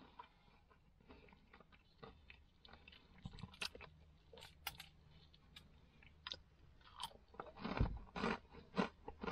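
Crunchy KFC fried chicken wing, a spicy Wicked Wing, chewed up close with repeated crisp crunching and biting sounds, growing louder toward the end, with no talking.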